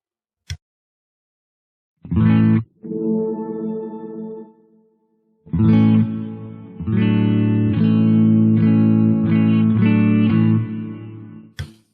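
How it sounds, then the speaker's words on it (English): Clean electric guitar chords through a BOSS GT-1000 ring out with lush reverb and a shimmering tail, a single strum then a longer sustained passage before cutting off. "there's a really nice clean sound"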